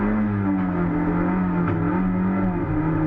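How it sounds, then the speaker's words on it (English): A race car engine runs with a loud, sustained droning hum that wavers slightly in pitch, steady and close, no talking, while the car cannot select a gear during a race at Wakefield Park. "Sounds like the engine's still going, but can't select a gear."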